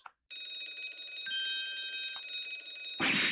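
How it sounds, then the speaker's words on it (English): Shipboard alarm bell in a video game, a continuous rapid metallic ringing with a steady high tone, ending in a burst of clattering noise. "This would appear to be an alarm bell. All hell would break loose if that thing were to ring."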